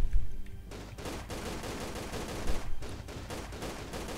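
Rapid bursts of gunfire from shooting an enemy in Tomb Raider: The Angel of Darkness, a dense crackling fusillade that runs almost unbroken and fairly loud, with a few heavier thumps standing out.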